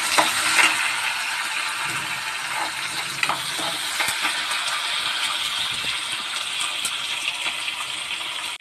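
Onions tossed into hot oil with a lentil tempering of urad and chana dal for upma sizzle and crackle steadily, with occasional stirring scrapes and clinks of a spoon against the pan, close and fairly loud, with no talking.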